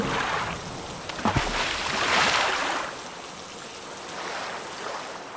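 Steady rain falls over a river with broad, continuous hiss swelling and easing, a brief splash or knock near the start, no voices.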